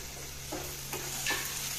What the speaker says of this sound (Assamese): মাছখিনি মই 1 মিনিটমান ভাজিলোঁ